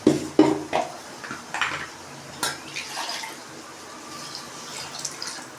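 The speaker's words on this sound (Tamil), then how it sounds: "தேவையான அளவு தண்ணி ஊற்றிக்கிட்டாச்சு தண்ணி ஊற்றியாச்சு" Water splashes and drips into a metal cooking pot for a peanut-lentil tamarind curry, with a few clanks of the vessel at the start, then a softer trickle fading out.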